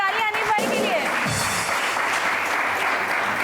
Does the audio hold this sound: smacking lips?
no